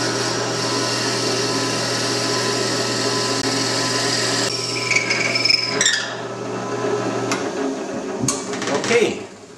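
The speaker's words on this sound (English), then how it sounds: "So I'm going to drill that hole." A drill bores a hole in a wooden whistle, a steady whining drone lasting several seconds before shifting and ending with a few knocks and handling noises.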